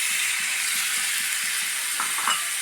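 Steady hissing sizzle from a frying pan as boiled chicken, precooked with turmeric and salt, goes in for a chicken curry, with a few soft stirring clinks near the end.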